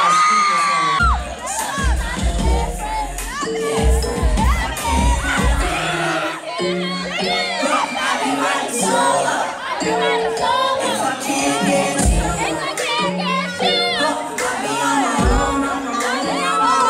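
A concert crowd screams and cheers loudly and continuously, with high-pitched shrieks and whoops layered over music-like tones for the whole stretch.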